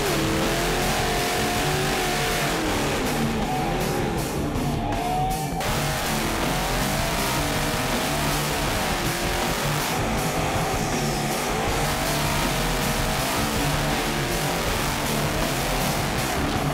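Race-prepped Ford XW Falcon with a roughly 1300 hp engine revving hard and loud, the note rising and surging continuously throughout, with a tire squeal mixed in and no talking.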